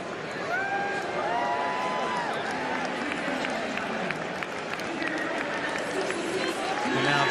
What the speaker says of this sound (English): There's applause for him, but there's a roar for Nestor Irankunda